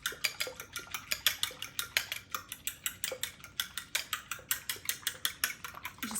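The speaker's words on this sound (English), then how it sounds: "I'm gonna mix this really good" Pie crust ingredients with vinegar being beaten in a bowl, a steady run of sharp utensil clicks against the bowl's side in quick rhythm, close and alone.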